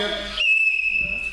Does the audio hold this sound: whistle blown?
yes